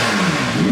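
A short, loud burst of a wrecked McLaren 675LT engine revving upward, close and throaty.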